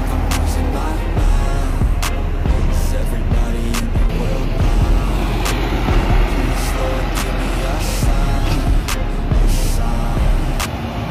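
Buses from the Maju Lancar and Agramas coaches at the Bekasi Timur toll gate, their engines rumbling steadily in loud, continuous traffic noise with a few sharp clicks and bursts throughout.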